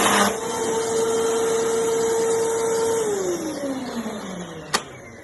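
A WAXIE Pacer 12UE upright vacuum runs with a loud steady whine, then the brush stops and the motor pitch drops away, with a sharp click near the end.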